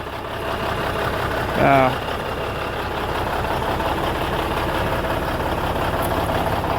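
A 2002 Kenworth W900 truck engine idles in a steady low diesel rumble, heard from inside the cab, with a brief tonal beep near the start.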